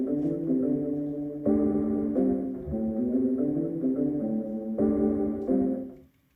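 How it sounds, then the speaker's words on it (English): Sonified electrical activity of a music-educated person's brain, rendered as a sustained, tonal, harmonic drone with stepwise shifting pitches and a few abrupt changes, moderately loud and alone, fading out at the end. "Here is the sound of a brain with a music education"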